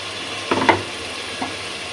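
Onions with garam masala and cardamom fry in a pot for beef khichuri, a steady low hiss broken by a couple of short stirring scrapes.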